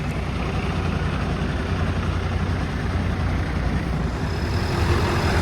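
A Ford F550 truck's diesel engine, fitted with new injectors, runs steadily at idle close by, a continuous broadband rumble with no talk over it.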